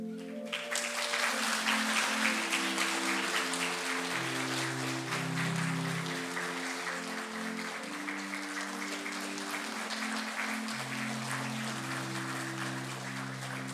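A church congregation at a Sunday worship service claps in thanks during a plaque presentation, the applause steady and moderately loud over sustained organ or keyboard chords.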